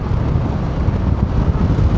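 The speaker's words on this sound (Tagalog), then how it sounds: "Ay, grabe yung hangin. Alam mo talaga may bagyo." Strong typhoon wind buffets the microphone outdoors during Typhoon Tino, a loud, constant low roar with uneven gusting pulses and no talking.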